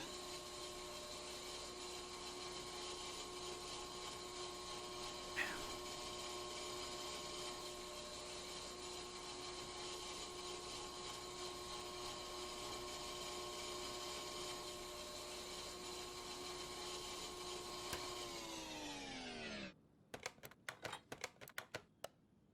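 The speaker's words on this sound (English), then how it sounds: "Now let's get those rotors on the lathe." Brake rotor being turned on a lathe: a steady whining machining drone with a high metallic ring that holds for nearly twenty seconds, then winds down, followed by brief clattering clicks.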